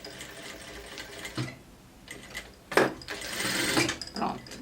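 Home sewing machine stitching and backstitching a garment's shoulder seam, with short bursts of close mechanical whirring separated by brief pauses, growing into a longer steady run near the end.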